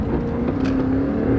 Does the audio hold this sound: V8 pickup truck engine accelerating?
yes